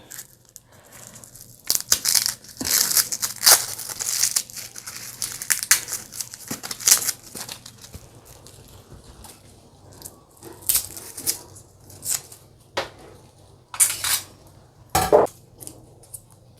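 Garlic and chili for sambal being crushed by hand, with irregular crunching, grinding and clattering strokes against a hard bowl or stone, close and fairly loud, broken by short pauses.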